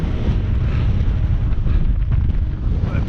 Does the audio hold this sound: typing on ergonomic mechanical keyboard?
no